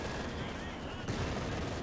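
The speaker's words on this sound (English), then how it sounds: "Artillery barrage there" In Company of Heroes 2, an artillery barrage rumbles as dense, overlapping booms and crackling blasts. The shelling is fairly faint and continuous, with a sharper burst about halfway through.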